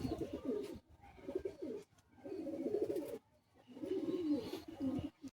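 Young home-bred pigeons in a loft in Bagnan give repeated low, throaty coos in three or four rolling bursts separated by short pauses, close and fairly quiet, with no talk.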